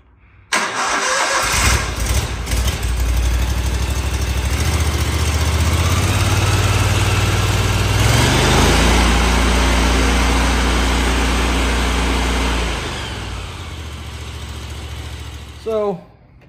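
An engine fitted with new injectors and fuel lines cranks, catches and runs loudly for over ten seconds, its pitch shifting as it settles toward a steadier idle, then fades near the end.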